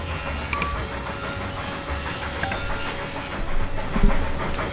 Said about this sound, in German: Wir beobachten mal wieder einen Zug.